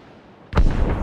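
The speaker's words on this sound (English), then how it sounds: "Cannon fire. Deep within the fog." A single deep boom of cannon fire in the video game Assassin's Creed Rogue, from deep within fog, erupts suddenly after quiet, followed by a heavy rumbling tail.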